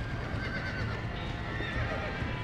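A horse in the Red Dead Redemption video game whinnies over a steady clip-clop of hooves, close and fairly loud against a noisy background.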